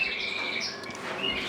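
An intensive red-feathered flighted miniature mule canary sings in a birdroom, with continuous high twittering and chirps at moderate volume and no talking.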